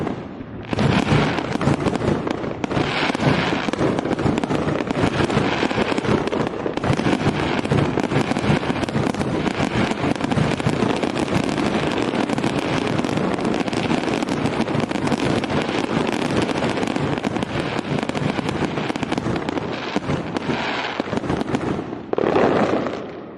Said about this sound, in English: I'm going to show off some fireworks